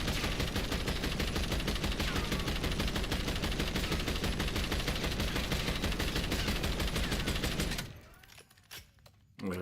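Sustained automatic gunfire from a rifle in the Call of Duty Black Ops 7 video game, with rapid, dense shots at an even rhythm for about eight seconds before cutting off, leaving faint clicks and quiet handling sounds.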